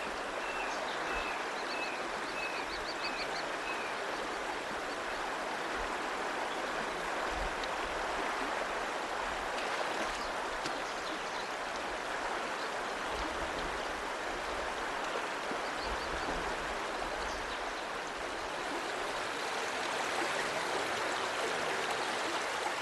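River current rushes over waterfalls in the Australian wilderness, a dense, continuous roar of churning water that stays steady and loud throughout, with no voices.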